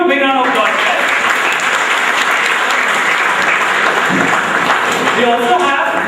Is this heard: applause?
yes